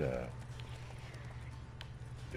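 Hooves of a horse clip-clop steadily at a riding pace in The Witcher 3 video game, soft and continuous beneath a faint background hum.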